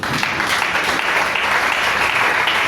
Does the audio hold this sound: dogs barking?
no